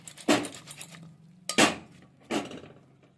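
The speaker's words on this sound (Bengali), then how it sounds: "এগুলোকে আমি এইভাবে নেড়ে নিচ্ছি যাতে নুন হলুদটা মিশে যায়" A spoon stirring salt and turmeric into ingredients in a bowl makes three distinct metallic clinks against the bowl, close and spaced about a second apart, with quiet scraping between them.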